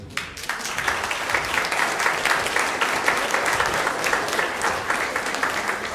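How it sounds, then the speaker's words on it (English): A church congregation at Bigfork Community United Methodist Church gives a round of applause for visiting singers, a full, steady wash of many hands clapping close and loud throughout. "A big round of applause for them"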